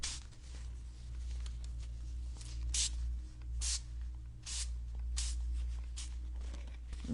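Spray bottle misting water onto the ink side of a book cover inlay, a run of short hissing bursts spaced about a second apart over low steady background hum.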